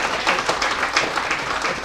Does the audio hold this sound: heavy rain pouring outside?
no